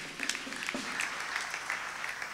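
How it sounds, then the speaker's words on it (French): A church congregation applauding, a dense and steady patter of many hands clapping at moderate distance, with faint voices mixed in. "Acclame très fort le Seigneur."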